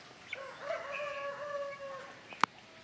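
A guinea fowl about three months old on a free-range poultry farm gives a short, harsh call a few seconds long, fairly near and alone, with a sharp click near the end.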